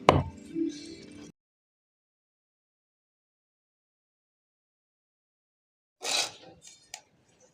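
Knife chopping goat head meat on a board in two short bursts of clattering cuts, separated by a long stretch of silence.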